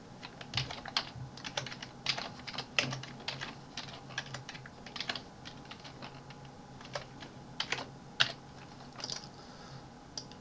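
Fast typing on a computer keyboard while entering text in Excel 2019 produces a steady run of light, irregular key clicks with occasional louder taps. The clicks are fairly close and continue without a break, with no talking.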